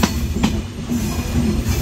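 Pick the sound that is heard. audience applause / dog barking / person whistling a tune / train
train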